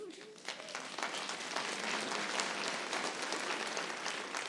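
An audience at a town meeting applauds steadily, a broad, sustained wash of many hands clapping from a distance without a break.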